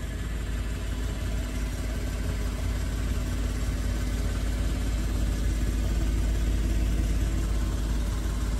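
A Thai-import 2019 Suzuki automatic motorbike engine idles with a steady, even low hum and light mechanical rattle, close by and unchanging throughout, with no talk.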